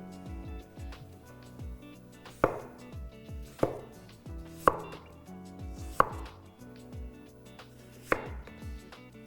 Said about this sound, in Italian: E affetto le patate.